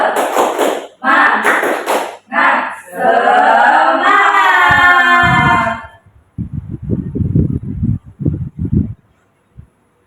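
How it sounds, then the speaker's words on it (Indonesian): In a primary school lesson, a teacher's voice first chants a 'tepuk semangat' rhythm, then a series of sharp rhythmic hand claps follows in quick groups, close and loud. "Nah, ini adalah namanya tepuk semangat."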